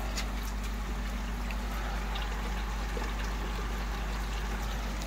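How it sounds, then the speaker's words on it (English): Water from a pool filter backwash rushes down a drain pipe in a steady, continuous flow with a constant low rumble and hiss, unbroken for several seconds. "So that's being backwashed down this pipe now"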